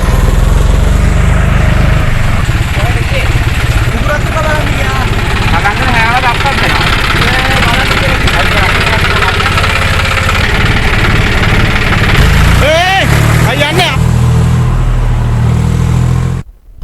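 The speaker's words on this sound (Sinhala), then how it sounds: "පුද්ගලයන් කිහිප දෙනෙකු වනය තුල සිට ට්‍රැක්ටරයකින් මෙලෙස වේගයෙන් පිටතට පැමිණියා" A tractor driving fast out of a forest, its engine running loud and close in a continuous chugging drone, with brief louder revving bursts near the end before cutting off.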